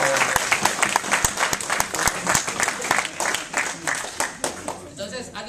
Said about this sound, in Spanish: También tenemos una aplauso a Jacinta.